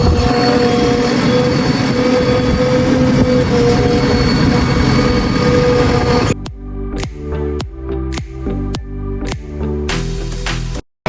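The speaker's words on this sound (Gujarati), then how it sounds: "તો આજે અમે આવી ગયા ટ્રેક્ટરનું મશીન લઈને સ્કૂલનો પાયો ખોદવા" A tractor-mounted digging machine works on a school foundation, its heavy engine roaring steadily for about six seconds before giving way to a series of sharp, rhythmic metallic clanks and knocks.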